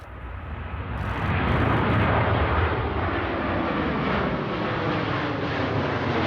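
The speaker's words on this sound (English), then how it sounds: "this hybrid engine, and whilst it just looked and performed like any other ordinary turboprop engine" Prototype aircraft with a hybrid turboprop engine flying at an airshow, its broad engine roar rising quickly and then holding steady and loud, with wind rushing against the microphone.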